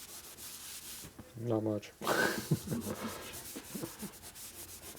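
An oily 1961 Harley-Davidson FL panhead engine part being rubbed with a diaper, giving a soft, close scrubbing sound in short bursts, with a voice speaking briefly over it.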